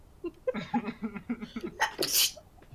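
A person gives a loud, sharp sneeze after a few quick wheezy inhalations, close to the listener.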